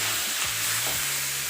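Chicken frying in hot ghee, a steady close sizzle with soft stirring scrapes throughout the short stretch, no talk.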